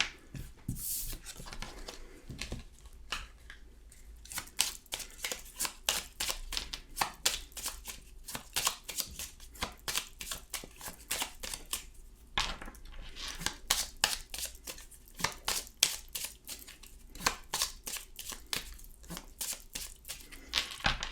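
Tarot cards being shuffled for a card reading, a steady run of quiet, crisp riffling and slapping card sounds repeating close by for the whole stretch, with no talking over them.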